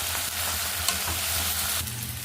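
A pan of ridge gourd curry with turmeric being stirred as it cooks, giving close, steady scraping and soft sizzling throughout.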